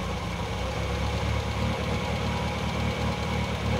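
A 1966 Triumph Spitfire engine with SU carburettors idles high and runs too rich, a steady close rumbling drone with an even low throb and no voices.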